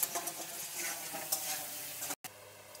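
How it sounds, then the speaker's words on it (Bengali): Long-cut potato pieces fry in oil with a little salt, making a dense continuous sizzle with occasional stirring taps, close and steady, broken by a brief dropout near the end. "লবণ দিয়ে একটু ভেজে নেব।"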